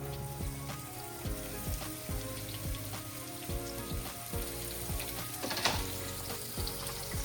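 Onion and tomato fry in hot oil for a restaurant-style kadai paneer, giving a steady, dense sizzle that crackles continuously and close by, with a few louder pops and spatters and no voices.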